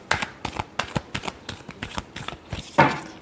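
Tarot cards being shuffled by hand in quick, rhythmic riffling bursts, roughly a dozen crisp slaps close up, ending with a louder snap as the deck comes together.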